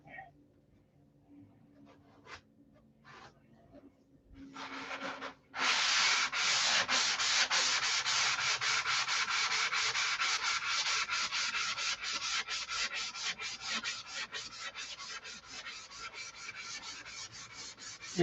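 Hand sanding a finish with 320-grit sandpaper: after a few light scrapes, a loud, steady, close rasping rub starts and continues in rapid back-and-forth strokes.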